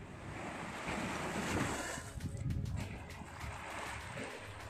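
Sea waves surge and wash continuously at City Beach near Bolar, a steady broad roar with swells peaking around the middle, wind buffeting the microphone throughout.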